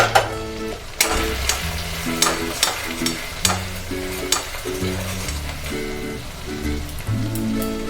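Cumin powder, chili and turmeric stirred and fried in a pan for a Bombay duck curry, a loud close sizzle with repeated spoon scrapes about once a second, while music plays underneath.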